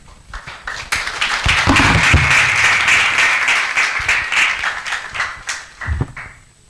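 A church congregation claps together after a sermon at a worship service, loud sustained applause with dense overlapping claps that swells, holds steady for several seconds, then thins into scattered claps and thuds near the end.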